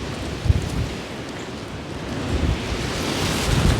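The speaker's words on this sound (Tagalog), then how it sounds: "Nakikinig nyo yun? Yung lakas ng hangin?" Strong wind roars steadily across the microphone in a driveway with low rumbling gusts, loud and unbroken, no voices.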